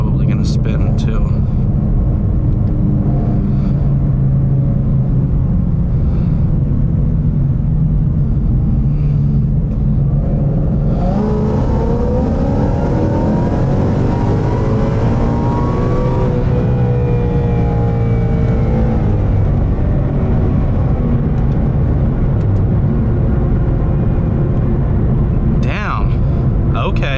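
A Ford Mustang making roughly 700 wheel horsepower accelerates hard, its engine note rising steadily in pitch in a loud, close-up run, while someone talks over much of it.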